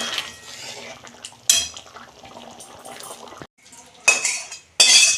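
Chana masala is scraped and poured from a metal pot into a serving dish, close clanks of spoon on metal and wet sloppy sliding, with loud scraping bursts between quieter moments.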